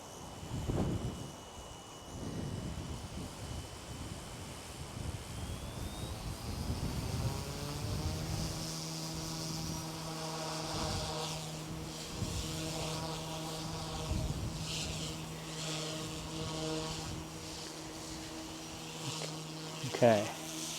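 A small Goosky S2 MAX RC helicopter spools up and flies, its thin whining rotor tone rising steadily and holding at a close, moderate level with brief talk near the start.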